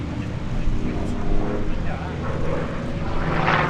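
Gamebird GB1 aerobatic aircraft, named Tigger, performing at Sywell airshow 2024: a steady propeller engine drone that swells and fades slightly as it flies past, with a commentator's voice over it.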